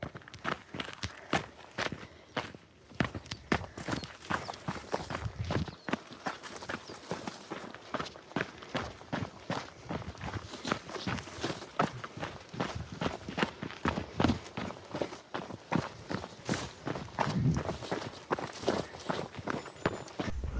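Footsteps on a mountain trail in Torres del Paine, Chile, pound in a fast, steady rhythm like running, close and crunchy, with faint breathing and wind between strides.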